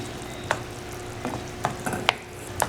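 Water goes into a pot of curried eggplant and potato, a soft sizzle under a few sharp spoon clinks and stirring scrapes spaced across the moment, close and fairly quiet.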